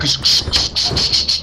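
Rapid pulsing high-pitched buzzing of bees in the game Lethal Company, in short repeated bursts, close and fairly loud, like insects swarming nearby.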